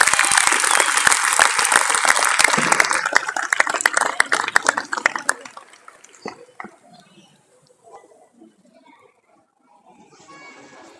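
A large audience applauding to welcome a senior dance group onto the stage at a Christmas show, loud dense clapping with cheers that thins out and fades to scattered claps and murmurs.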